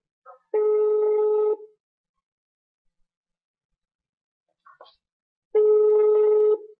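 An outgoing telephone call rings unanswered: two long, steady ringback tones about four seconds apart, clear and close, with quiet faint clicks in the gap between them.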